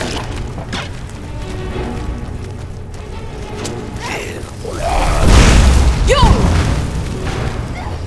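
A deep booming fire-attack blast erupts midway through in Skyrim, followed by crashing impacts and whooshing game effects over a steady rumbling background.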